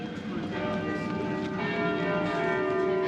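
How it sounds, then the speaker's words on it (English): St Albans Cathedral bells ring continuously, their overlapping tones resonating and blending together at a moderate distance. "Just nice to hear the bells of the cathedral."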